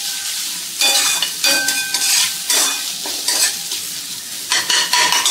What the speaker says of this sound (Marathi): तर मी इथे एक चिरलेला गाजर ह्याच्यामध्ये घालून घेत आहे आणि परतवून घ्यायचं आहे व्यवस्थित।